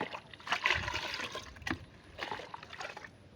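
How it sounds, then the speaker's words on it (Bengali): A mugful of liquid pesticide is poured into a backpack sprayer tank in a rice field, giving a close, splashing gurgle in uneven bursts that trickles off toward the end. "এক মগ পরিমাণে ওষুধ দিয়ে দিলাম"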